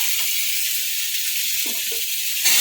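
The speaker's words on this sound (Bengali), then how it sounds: "ফোড়নটা ভাজা হয়ে গেছে এবার সবজিগুলো সব দিয়ে দেবো" A continuous bright hiss of pumpkin, potato and eggplant sizzling as they go into hot oil with fried spices, steady throughout and growing slightly louder near the end, no talking.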